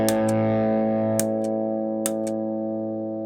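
Electric guitar through channel B of an Orange Dual Dark 100 amp rings out a sustained, bright chord, with a few sharp clicks or picking ticks over the fading tone.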